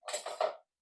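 Three short metallic scrapes of a spoon against a glass jar, close and quiet, in quick succession before falling silent.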